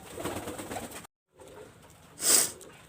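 Imported-blood flying pigeons coo softly nearby, with low murmuring calls and a brief louder burst toward the end after a short gap.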